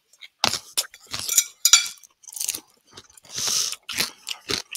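Loud, close crunching of crispy tofu croutons in a Caesar salad, with several sharp bites and chews coming in uneven bursts, a faint clink of cutlery and brief murmurs in between.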